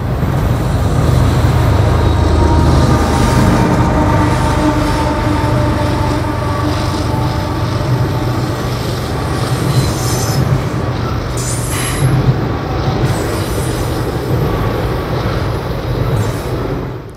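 A heavy CSX freight train rumbles steadily past close by, its wheels clattering and squealing on the rails for the whole stretch, ending with the rear DPU locomotive.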